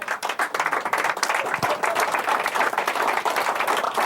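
A theatre audience at a magic show breaks into a sustained round of applause, dense continuous clapping from many hands, loud and steady throughout with no voices standing out.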